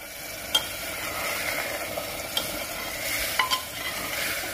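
A spoon or ladle scrapes and stirs food in a pan over an open village fire while it fries, a steady sizzle with a few sharper knocks against the pan, close and alone with no voices.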